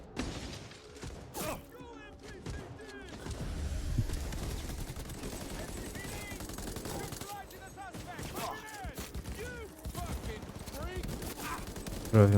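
Rapid gunfire trades back and forth in a first-person shooter game running with ray tracing at 1440p, bursts of sharp shots and clanking mechanisms crowding the whole stretch while a player talks over it.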